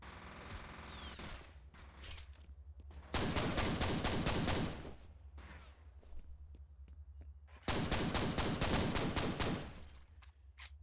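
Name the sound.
gunfire in video game F.E.A.R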